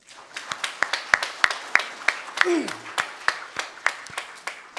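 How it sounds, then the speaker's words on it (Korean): Church congregation applauding during an elder ordination service, a steady rhythm of distinct sharp claps, with a brief voice in the middle. "우리 박수 한번 하십시다"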